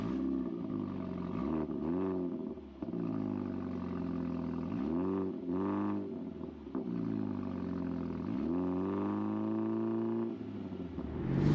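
A Mini GP3 engine revs hard through repeated accelerations and gear changes, pitch climbing and dropping in several rising sweeps, loud and close from inside the car with no talk.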